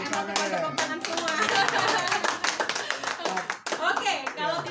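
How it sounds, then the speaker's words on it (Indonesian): Audience clapping at a children's congress event, a steady patter of hands running through the whole stretch with speech-like voices mixed in. "Oh, udah pada tepuk tangan semua."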